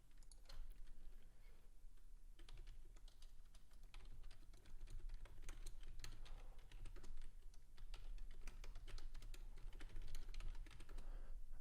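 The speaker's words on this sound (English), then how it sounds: "if you hear typing, that's you're not crazy. That's just me making other alerts in the chat room." Steady computer keyboard typing in a live day-trading stream, rapid irregular key clicks running continuously and fairly close, with no voice.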